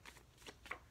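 Quick riffling of playing cards being shuffled, a few soft papery bursts in close succession, close and fairly quiet.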